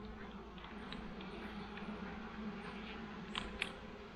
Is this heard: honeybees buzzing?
yes